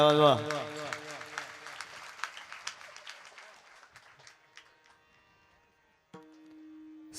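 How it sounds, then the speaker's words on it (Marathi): Applause from the audience for a performer at a Marathi devotional kirtan swells after a sung phrase, then thins into scattered claps and fades before a steady held tone sounds at the end. "एकदा जोरदार कलाकारासाठी टाळ्या वाजवा."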